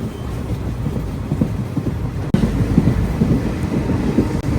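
Visakhapatnam Machilipatnam Express at cruising speed, a loud continuous low rumble of the running train with light wheel clatter and a sharp jolt partway through.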